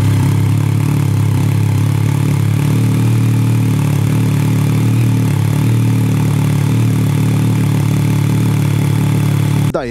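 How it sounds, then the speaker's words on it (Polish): A motorcycle engine, freshly filled with 10W40 oil after an oil change, idles loud and close in a steady, even mechanical drone throughout, with a brief change at the very end. "Po wlaniu odpowiedniej ilości zakręcam korek i odpalam na chwilę maszynę."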